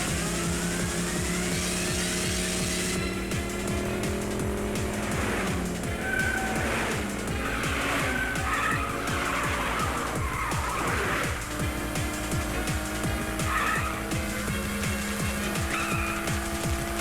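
A race car engine roars and revs continuously for about seventeen seconds, loud and close, with repeated high tire squeals and skids cutting in through the middle and near the end; no talking.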